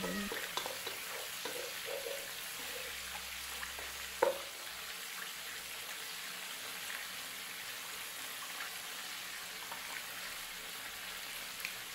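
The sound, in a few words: stirring chicken kabsa rice in a frying pan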